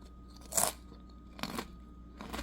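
Crisp crunching bites into ranch-flavored purple sweet potato rice chips made with yellow corn, avocado oil and rice flour, three close, sharp bursts spaced about a second apart over quiet background.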